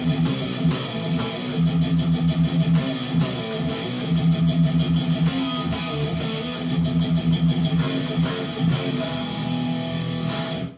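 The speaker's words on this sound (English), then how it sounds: "then we've got these sliding chords as well" An electric guitar strums driving metal power chords that slide between positions in a steady rhythm, loud and continuous without any talking.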